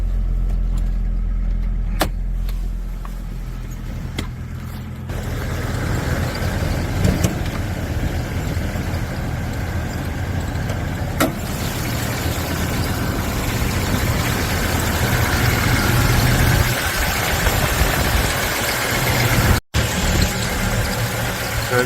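GMC Canyon / Chevy Colorado engine idling after start, a steady, loud, close rumble with a faint rough unevenness, a couple of light clicks and one brief dropout near the end.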